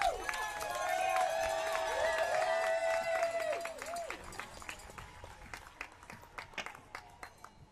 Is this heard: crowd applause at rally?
yes